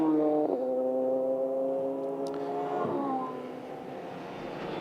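A Radical race car at Monza pulls away during the 2015 Radical European Masters: a close engine note climbs through the revs, drops sharply on two upshifts, and then settles into a steady drone.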